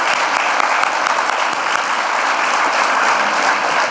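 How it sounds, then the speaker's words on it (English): An audience at a State of the City address applauds city council members and elected officials, a loud, dense, continuous round of clapping with no let-up. "Please join me in a big round of applause for our leadership and our elected officials."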